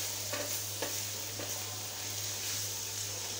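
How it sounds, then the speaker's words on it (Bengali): Snake gourd and egg frying in a pan, a steady soft sizzle with a few faint scraping stirs, fairly quiet under a constant low hum. "এই যে এইভাবে করে আমি চিচিঙ্গাটা ভাজি করে নিলাম।"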